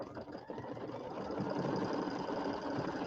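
Freshly serviced embroidery sewing machine stitching a watermelon design on fabric, a steady, fast mechanical whirring hum with rapid needle ticking that runs continuously and fairly loud throughout.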